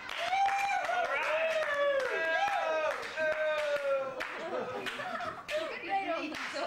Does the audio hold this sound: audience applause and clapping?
yes